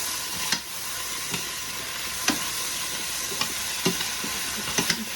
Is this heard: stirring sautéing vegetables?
yes